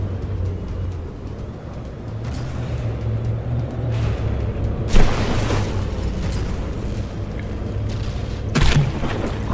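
Battleship guns firing at long range in the naval combat game From The Depths: booms and blasts over a steady low rumble, with a sharp burst near the middle and another near the end.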